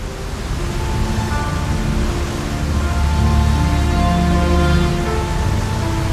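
A roaring waterfall, the Aahi waterfall, pours between two hills with water falling under high pressure. It makes a loud, steady, close rushing roar with no talking.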